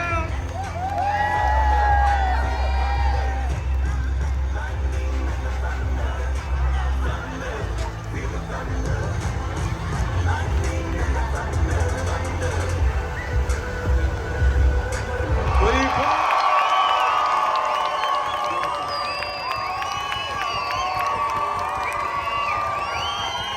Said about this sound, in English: It's Navy, give them a shout. Pirates, give them a shout.